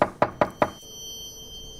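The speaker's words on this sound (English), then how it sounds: "Time to knock." Four quick, sharp knocks on a door in the video game Midnight Postman, evenly spaced and loud, followed by a faint lingering hum.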